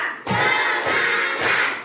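A class of students in a classroom does a rhythmic clapping cheer together, loud unison bursts of claps landing in a steady beat, with no talking over them.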